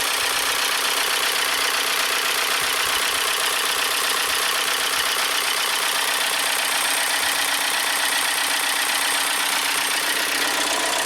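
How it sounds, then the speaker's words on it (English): A VW Tiguan engine idles with its drive belt slipping on an oil-soaked alternator, a constant loud hissing whine with a fast rhythmic chatter held steady throughout, with no talking. "There's the belt slipping on the oily alternator."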